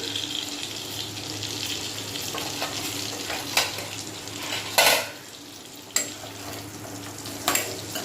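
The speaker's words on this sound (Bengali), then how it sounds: "আলু আর পটলটা ভেজে নিচ্ছি" Potatoes and pointed gourd fry in a pan, a steady low sizzle with occasional scraping stirs and a few sharper clatters, no voices over it.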